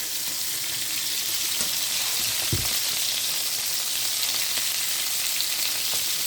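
Cod, haddock or halibut fillet frying in a pan with a steady high sizzle, plus a brief low thump partway through as the fish is flipped; no talk.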